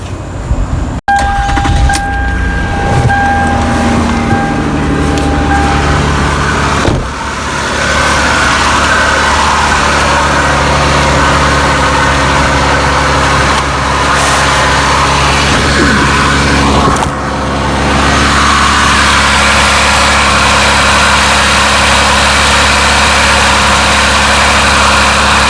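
Toyota Camry V6 with a steel oil pan cranks and fires, then settles into a steady, even idle that continues alone for the rest of the stretch, with a slight dip partway through.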